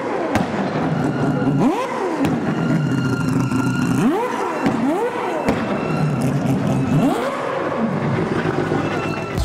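Mazda 787B race car with a quad-rotor Wankel engine, its high-pitched rotary wail rising and falling in several revving sweeps, with sharp thuds and pops between them and some talk faintly underneath.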